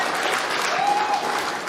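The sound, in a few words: crowd applauding at pool championship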